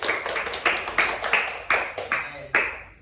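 A classroom of fifth-grade pupils claps for a group, a brisk run of hand claps in short uneven bursts, close and lively, fading out at the end.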